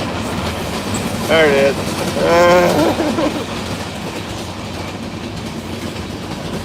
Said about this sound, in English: it was just the freight train